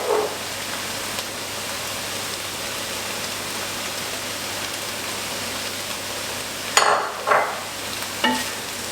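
Courgettes sizzle gently in a frying pan as dried oregano is stirred in, a steady soft crackle broken near the end by a few brisk scrapes of a utensil against the pan.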